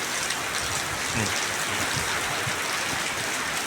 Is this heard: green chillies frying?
no